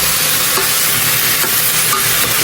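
Pork sinigang is stirred in a cooking pot, a loud continuous hiss and bubbling sizzle with faint scraping strokes from the spoon, close up and without talk.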